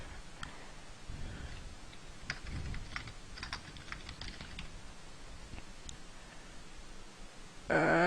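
Java code being typed on a computer keyboard, a steady run of quick clicking keystrokes close up, with irregular bursts and short pauses and no talk.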